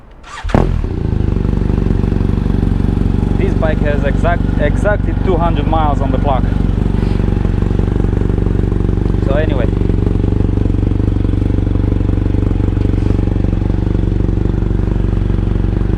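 BMW F800GSA motorcycle fitted with a Yoshimura R77 slip-on exhaust, engine fired up and idling steadily, loud and close, with someone talking over the running engine.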